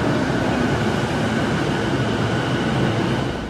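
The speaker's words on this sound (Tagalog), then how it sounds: "Sobrang haba ng tren, grabe." A long train passes close by in Tokyo, making a loud, continuous rumble and rail roar that holds steady throughout with no speech over it.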